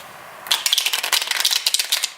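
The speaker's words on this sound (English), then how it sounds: "you can let shuffle the spectator, so just shuffle it a few times" Rapid crisp riffling and flapping of playing cards being shuffled, several quick bursts in close succession, near and fairly loud, with no talking.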